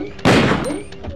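A single loud Magnum gunshot from the Resident Evil 2 video game, a sharp close blast with a short ringing tail, without any talking.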